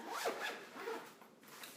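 A lunch bag's zipper is pulled shut in a few quick rasping strokes, close and crisp, lasting under two seconds.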